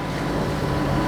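A sailboat's diesel engine hums steadily while motoring underway, a continuous broadband drone with wind buffeting the microphone and water rushing along the hull, with no voices.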